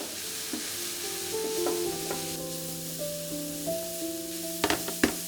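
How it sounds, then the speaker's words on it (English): Mushrooms and onion frying in a pan with salt, cumin, smoked paprika, oregano, garlic powder and chili flakes; soft steady sizzle with occasional stirring scrapes and a couple of sharper clinks near the end, no talking. "I add the mushrooms and I fry them off until they're tender as well"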